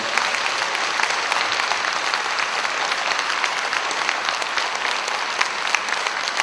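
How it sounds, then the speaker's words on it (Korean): A crowd at a Gangneung tea-culture gathering applauds, honouring the vice-chairman, a dense, steady wash of clapping that holds at even loudness throughout. "크게 박수 한번 부탁드리겠습니다"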